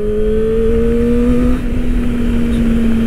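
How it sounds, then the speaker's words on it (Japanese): Kawasaki Ninja ZX-25R SE 250cc four-cylinder motorcycle engine held at high revs, a loud, steady, close whine that rises slightly in pitch, with no talk over it. "やはり4気筒独特の音っていうのはあるんですけども"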